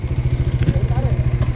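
Motorcycle engine running while riding along a road through the Serra Gaúcha in southern Brazil, a steady pulsing throb close to the mic with faint clatter, talk quietly mixed in.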